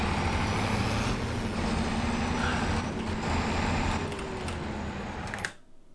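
A truck engine in Farming Simulator 22 labors under load in a loud, continuous drone with a rising whine. The engine cuts off abruptly near the end.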